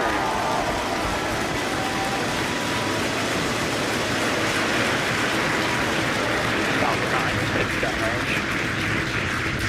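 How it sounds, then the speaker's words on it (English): Rocket engines at liftoff for a crewed space station launch, a broad continuous roar that holds steady throughout. "Ignition, engine full power, and liftoff"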